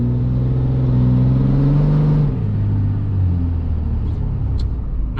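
Heard from inside the cab, a 2006 Cummins diesel pickup with a 5-inch MBRP exhaust drives on with a deep, steady drone whose pitch rises and then drops as it shifts, with a few faint clicks near the end.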